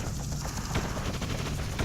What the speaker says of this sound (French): ah ouais, c'est vachement efficace ce sniper